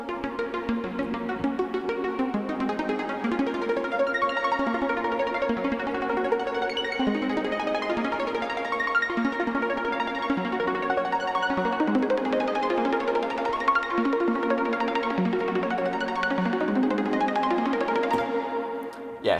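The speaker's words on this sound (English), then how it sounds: "you can get a real kind of, just kind of choppy sound, and maybe buzzy in some cases" A Logic Pro X arpeggiator drives a buzzy synth patch with short, choppy note lengths, giving a steady stream of clipped, rapid notes that runs evenly and loudly for the whole stretch with no voices.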